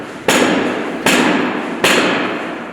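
A bat strikes glass covered with anti-graffiti film three times in an even rhythm, each hit a loud, close, sharp smack fading into a ringing decay, with no talking.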